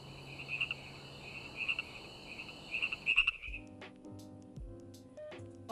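Frogs croak in repeated bursts over a steady chorus of chirping crickets, then music takes over partway through.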